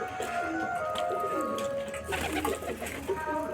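Pigeons kept in a home loft coo softly and close by in low, repeated throaty calls, with a faint voice in the background.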